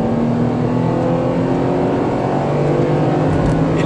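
Ford Ka Titanium engine revving hard as the accelerator is pressed, a loud sustained engine roar with rising harmonics heard from inside the car, no talk over it.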